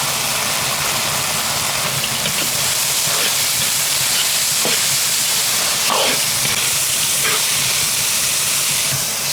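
Edamame tossed into a pan of frying minced pork cooked with soybean paste and soy sauce, giving a steady loud sizzle and hiss that runs throughout with a few brief clinks.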